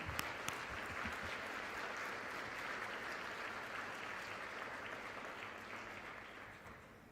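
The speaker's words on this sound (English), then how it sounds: "a round of applause" An audience at a 2022 ROTC commissioning ceremony applauds, a sustained, even wash of many hands clapping in a large room that slowly fades toward the end.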